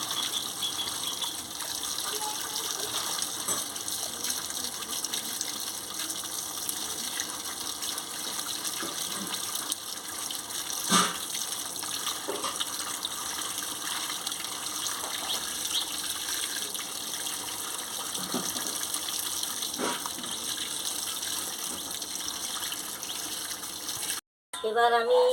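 Chopped gima saag greens being rinsed under running water, a steady broadband gush of flowing water that continues evenly for the whole stretch, with occasional light splashes and brief handling clatter, close by and fairly loud.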